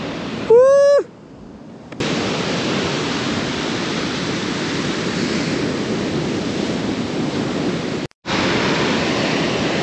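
Broadband wash of sea waves on a desert beach, steady and loud with strong wind across the microphone, briefly cut twice, with a short rising whistle-like tone near the start.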